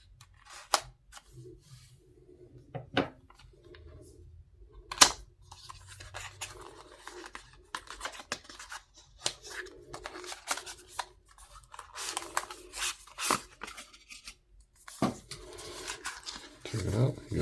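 Packaging for a Baseus 5000 mAh MagSafe slimline power bank is cut open with short scraping, rubbing and snipping sounds in uneven bursts, close and fairly quiet.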